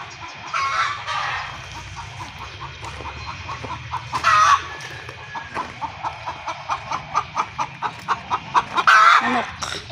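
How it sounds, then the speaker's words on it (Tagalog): Chickens clucking nearby on a Filipino backyard farm, with a hen laying eggs giving a rhythmic, accelerating series of clucks building toward the end, occasional louder squawks and faint background noise. "Manok."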